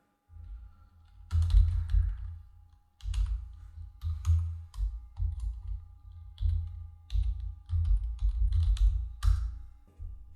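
Quick bursts of typing on a computer keyboard, clustered key clicks in separate runs with short pauses between them, close and clear with no talking.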